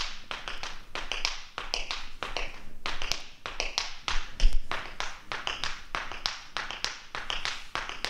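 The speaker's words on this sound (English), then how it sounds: "that's a little thing for some footwork and also for that riffle sound" Tap shoes on the floor doing riffle footwork: rapid, crisp metallic taps in quick clustered rhythmic bursts, steady and close throughout with no talking.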